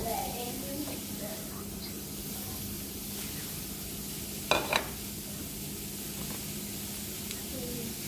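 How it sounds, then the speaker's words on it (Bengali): Chopped onion and garlic frying in oil in a pan, ready to temper boiled bottle gourd greens: a steady soft sizzle runs throughout, with a couple of brief clinks of a utensil and someone speaking over it. "শাকটা বাগার দিব। পেঁয়াজ দিলাম আর রসুন দিব।"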